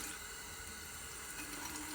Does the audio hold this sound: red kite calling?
no